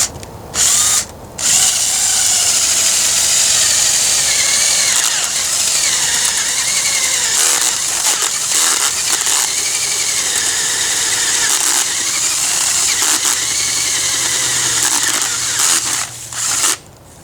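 An engine-powered auger attachment digs a hole in dirt along a tree line, giving a loud, close, continuous motor drone that rises and dips as the bit bites into the soil, with brief cut-outs near the start and end.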